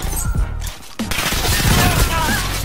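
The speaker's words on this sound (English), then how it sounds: "Sometimes you just gotta shoot." Loud bursts of gunfire in a Modern Warfare 2019 multiplayer match, with a brief lull before a sharp shot and continuous crackling fire and impacts afterward.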